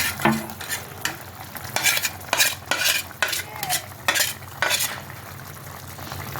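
Tarui fish goes into a simmering eggplant curry in a pan, and a spoon stirs it in repeated scraping strokes over a soft, steady sizzle.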